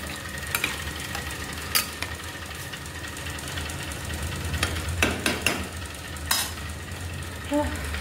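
A curry being stir-fried and reduced in a pan at home, with a soft continuous sizzle and occasional scraping stirs and clinks of a spatula, close and moderately loud, no talking.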